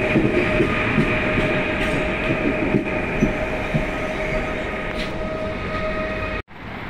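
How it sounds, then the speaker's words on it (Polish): An Intercity passenger train rolls past on a Kraków line, a steady rumble of wheels on rails with a sustained high squeal and occasional clicks, fairly distant and constant until a sudden cut near the end. "Jedzie Intercity do Zakopanego prawdopodobnie."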